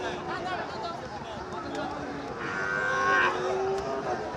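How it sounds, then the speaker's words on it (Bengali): A Sahiwal bull calf at a border-area cattle market gives a low, drawn-out moo partway through, heard amid steady crowd chatter and people talking nearby. "চমৎকার সাইজের এই গরুটা"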